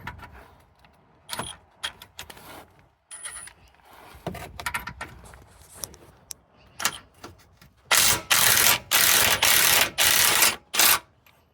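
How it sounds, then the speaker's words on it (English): An impact wrench fitted with a 21mm socket removes the sway bar bracket bolts on a 2005-2010 Jeep Grand Cherokee WK. After a stretch of quieter clicks and handling noise, it fires in about five loud, close, evenly spaced hammering bursts. "Still grab an impact with a 21mm socket."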